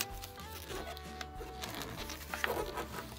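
Paper being creased and folded into an origami boat: quiet, close rustling and soft rubbing strokes with a brief crisp crinkle near the end.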